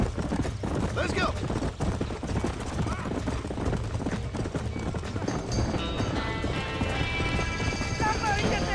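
Horses stamping, clattering hooves and whinnying inside a burning barn in the video game Red Dead Redemption, a busy, continuous jumble with shouting voices over it and rising high whinnies near the end.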